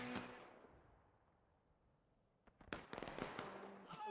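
Distant musket gunfire from a Civil War battle at Miller's Cornfield in the video game War of Rights, with about 200 players. A faint crack fades away, then after a quiet gap a rapid, irregular volley of pops comes from far off.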